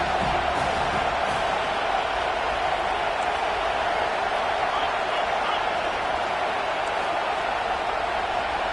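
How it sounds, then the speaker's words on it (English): Stadium crowd noise from a college football video game, a broad steady roar of cheering on 3rd down that holds constant throughout, with commentary voices talking over it. "Decibels rising as the crowd gets behind this defense on 3rd down."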